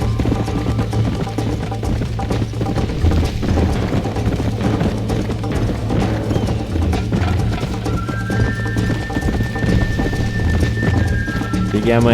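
A horse in the video game Red Dead Redemption on Xbox 360 gallops with a steady, rapid clip-clop of hooves beneath game music, while someone talks over it.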